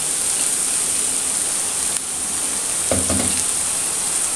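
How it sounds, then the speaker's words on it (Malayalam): Crushed garlic, ginger and chopped green chillies are sautéed in oil in a pan, making a continuous bright sizzle. A short burst of stirring near the end briefly lifts the crackle, and no one speaks. "ഒരു സ്പൂണ് വെളുത്തുള്ളി ഇഞ്ചി ചതച്ചതും ഒരു രണ്ട് മൂന്ന് പച്ചമുളക് അരിഞ്ഞതും ഇട്ട് കൊടുക്കുന്നുണ്ട് അതും കൂടി ഒന്നിട്ട് വഴറ്റി കൊടുക്കാം"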